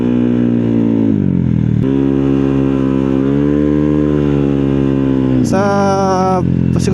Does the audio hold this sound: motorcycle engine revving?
yes